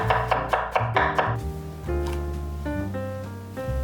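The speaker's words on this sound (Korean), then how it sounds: "감자는 4등분해서 얇게 썰어서 냄비에 담아주세요." Knife chopping quartered potatoes into thin slices on a cutting board, a quick run of close rhythmic cuts at first, then softer taps with musical tones ringing in the background.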